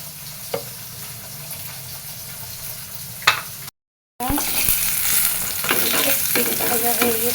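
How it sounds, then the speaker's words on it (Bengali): A spoon scrapes and churns through a pot of khichuri coming to the boil, with steady frying sizzle nearby, a couple of sharp knocks and a brief dropout partway through; no one speaks. "এদিকে খিচুড়িটা একটু নাড়া দিয়ে দিলাম, বলক এসে গেছে প্রায়"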